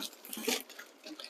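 Water splashes and gurgles as it runs into a tank or bucket, a short, quiet burst of broadband rushing with no voices present.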